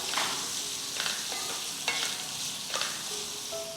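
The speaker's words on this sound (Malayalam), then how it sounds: "നാരങ്ങ ചേർത്ത് കൊടുത്ത് ഇതുപോലെ ഒന്ന് ഇളക്കി കൊടുക്കാം." Lemons are stirred in a hot pan for Kerala-style white lemon pickle, with a continuous sizzle under several distinct scraping strokes of the spoon against the pan.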